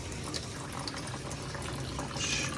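Water discharging from a home RODI filter used to make aquarium water, a steady close rushing and trickling flow that continues throughout with no talking.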